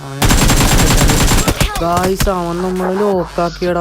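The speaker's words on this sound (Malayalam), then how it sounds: "അപ്പോഴാണ് അപ്പുറത്ത് ഒരു വെടി വെക്കണ ശബ്ദം." Rapid automatic gunfire in the battle royale game BGMI, a loud close burst of evenly spaced shots followed by a few single shots while someone speaks over them.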